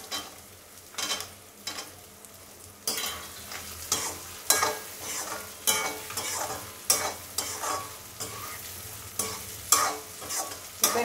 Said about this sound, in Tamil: இப்போ இந்த ஸ்டேஜில் எடுத்து வச்சுருக்கிற இந்த முந்திரி பருப்பை போட்டுடலாம்